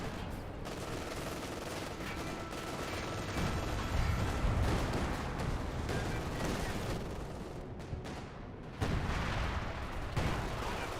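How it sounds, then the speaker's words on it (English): High explosive artillery rounds pounding a structure in Company of Heroes 2, a dense rumbling barrage of blasts and gunfire mixed with battle noise, loud and continuous, with a sharper burst near the end and a voice talking over it. "Now got high explosive rounds being brought on that structure"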